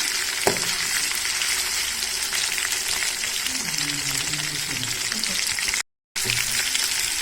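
Chicken pieces frying steadily in a pan of oil over medium flame, a dense continuous sizzle close up with occasional stirring clinks, a brief gap near the end.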